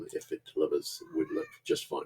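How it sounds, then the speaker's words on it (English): A house cat meows in the background while someone talks over it, the short cries blending with his steady speech. "Apologies about my cat in the background."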